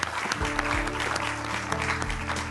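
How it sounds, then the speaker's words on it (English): A studio audience claps to welcome two women onto a television show, a short burst of dense clapping with sustained music tones underneath throughout. "please join me in a round of applause as we welcome these two wonderful women"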